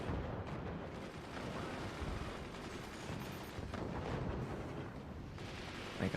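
Mortar fire in the strategy game Forts, a faint, dense rumble of overlapping thumps and blasts that continues throughout, heard without talk.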